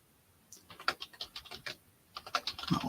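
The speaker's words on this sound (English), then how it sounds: "Now watch what I'm typing." Quick bursts of typing on a computer keyboard during a live online auction, close and crisp, with a short pause between two runs of keystrokes.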